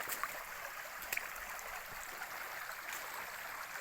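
A river flows through a forest valley, a steady broad wash of water with faint splashes, heard from a short distance with no voices.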